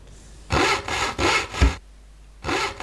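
Wood being sawn in the ranching video game Rancher while building a birdhouse: three steady back-and-forth saw strokes, a short pause, then a fourth stroke, close and fairly loud with no talking.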